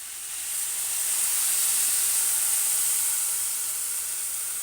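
Hot water poured into a pan of frying carrot thoran stir-fry produces a loud, steady hiss of sizzling steam that swells within the first half second and holds for several seconds with no talking.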